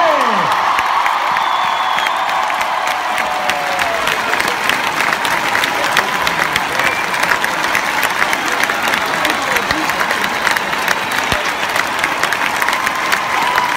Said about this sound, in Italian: Grande applauso a tutti questi artisti meravigliosi.